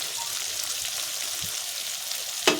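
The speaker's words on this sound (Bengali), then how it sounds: "এবার আমি এখানে দিয়ে দেবো দু চামচ টক দই" Two spoonfuls of sour yogurt going into a hot frying pan while cooking a katla fish curry with potol and potatoes, giving a steady close sizzle with a brief sharper spatter near the end.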